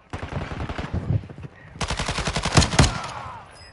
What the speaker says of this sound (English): Freaking P90, damn. The gun was getting away from me.